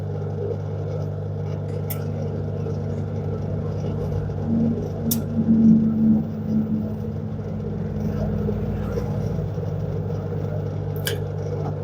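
An LG top-load washer with its motor jerking but failing to spin, heard as a steady low hum and rumble with a brief louder surge midway, close up and continuous, with no talking.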